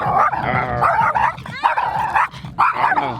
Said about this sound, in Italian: C'è un cane che mi vuole mordere.